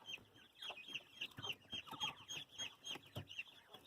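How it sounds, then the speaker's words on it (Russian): Flock of quails on a farm, fed on corn, wheat and barley, giving faint, busy overlapping chirps, clucks and twittering calls in quick irregular bursts, with no talking. "Такие вот перепелочки."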